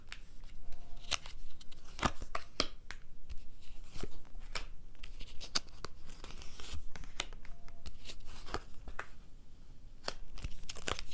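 Continuous close riffling and soft papery slaps of tarot cards being shuffled by hand, a busy steady texture with crisp ticks scattered throughout and no talking.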